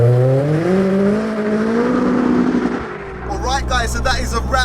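A tracked-out 522bhp Audi A3 1.8T drives with a loud, steady engine drone that rises in pitch, then settles as people talk over it inside the cabin.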